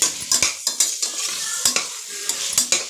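Tomatoes sautéing in a pan for mushroom biryani, with a spatula stirring and scraping in a steady rhythm of sharp clacks over a soft sizzle, close and clear with no talking.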